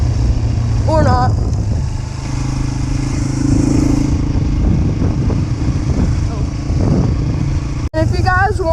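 A dirt bike engine runs steadily up close on a farm trail, its drone holding throughout with slight changes in pitch as it moves, while people talk over it at times.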